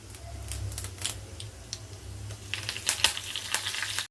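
Urad dal and curry leaves sizzle and crackle in a small spoonful of hot oil for tempering, a faint, steady frying hiss with scattered sharp pops that grow busier toward the end, with no talking.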